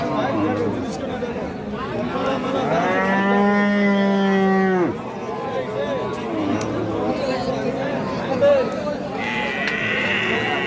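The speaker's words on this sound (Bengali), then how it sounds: "এইটাও একটা বকনা বাছুর" Heifer calves and other cattle at a rural cattle market, one animal giving a long, loud, drawn-out moo close by, with further lowing, bleats and steady crowd chatter all around.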